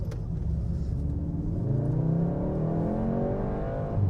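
A 2019 VW Golf R with a DSG gearbox accelerates hard, its engine note climbing steadily in pitch as it pulls through the revs, heard from close by with no talking.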